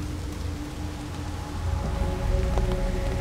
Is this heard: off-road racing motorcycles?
no